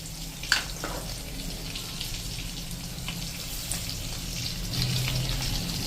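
Sesame seeds sizzle in hot oil in a pan for patra made from colocasia leaves, a steady close crackling fry with small pops, no voices.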